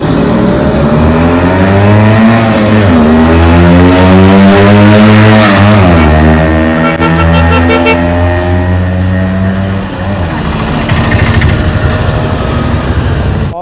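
A used 1999-model motorcycle engine on a performance ride in Kerala revs loudly and continuously, its pitch climbing and falling through repeated throttle sweeps, with no talking.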